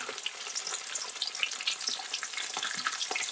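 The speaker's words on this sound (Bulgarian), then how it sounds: "Пържете рибите по 2 минути от страна" Floured red mullet fish fry in a generous amount of oil in a pan, producing a loud, dense, continuous sizzle with crackling pops throughout and no talking.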